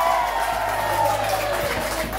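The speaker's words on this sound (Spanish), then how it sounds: "las despedimos con un fuerte aplauso" A crowd at a cumbia dance show claps and cheers as the girls leave, a brief, steady wash of noise with some talk mixed in.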